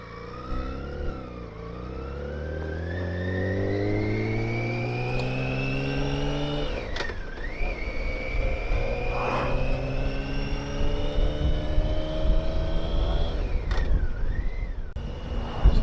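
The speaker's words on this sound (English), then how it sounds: "You can listen to the wind and listen to the sound of the bike" Motorcycle ride on an autumn road, with a steady engine note that rises and falls through gear changes and a continuous rush of wind over the rider, fairly loud and without talk.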